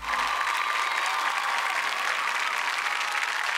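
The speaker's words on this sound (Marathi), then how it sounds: "सगळ्या कलाकारांसाठी खरंच जोरदार टाळ्या झाल्या पाहिजेत" Loud, steady applause from an audience for performing artists fills the space, a dense continuous wash of many hands clapping without a break.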